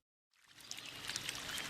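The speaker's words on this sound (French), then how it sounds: "Ça fait longtemps qu'on longe ce ruisseau." A mountain stream in the Basque Country flows with a soft, steady rushing, fading in after a brief silence and continuing faintly and evenly.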